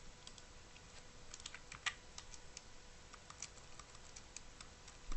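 Typing on a computer keyboard, a steady run of light key clicks and taps at close range, quiet and with no talking.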